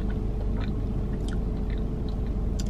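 Taco Bell nacho fries chewed close to the mic, with soft, intermittent crunches and mouth sounds under a constant broadband background hiss.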